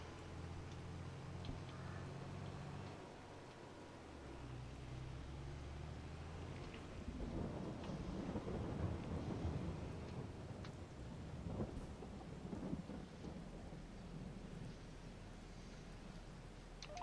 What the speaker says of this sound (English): It's raining, it's pouring,